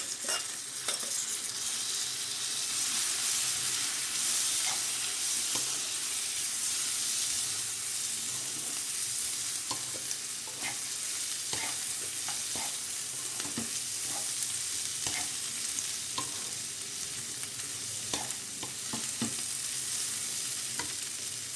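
Prawns frying with chili powder in a pot for Bhimavaram-style prawn fry biryani, a steady close sizzle with scattered clicks and scrapes of stirring throughout, no talk.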